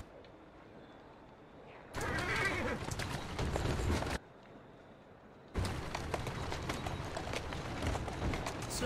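Horses in the Victorian London video game Assassin's Creed Syndicate, two bursts of rapid clip-clop hoofbeats at a run with rattling carriage noise, separated by quieter gaps.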